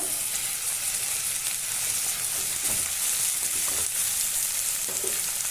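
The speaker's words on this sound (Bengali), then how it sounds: "তেলটা গরম হয়ে গিয়েছে, আমি এখানে দিয়ে দিব পেঁয়াজ কুচিটা, আর দিয়ে দিব আমি রসুন কুচিটা" Chopped onion and garlic frying in hot oil for an eggplant yogurt curry, with a steady, close sizzle and crackle running throughout, broken by a few soft stirring scrapes. No one speaks.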